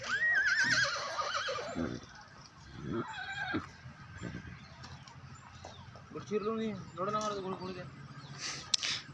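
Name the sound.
horse neighing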